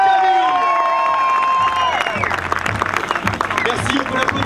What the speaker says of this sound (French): Merci, on peut l'applaudir bien fort.